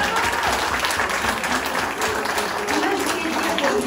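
Audience applause at a cosplay contest in Auxerre, steady and dense for the whole stretch, with a voice speaking over the clapping.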